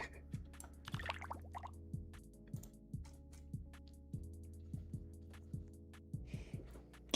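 Water-themed keyboard sound effect in the game Keyboard Escape, a rapid run of close, bright liquid drip plinks repeating in quick, fairly regular rhythm.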